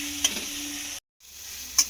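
Tomatoes fry with chopped vegetables in a pan for pav bhaji, a quiet steady sizzle with two brief stirring clinks and a short break in the middle.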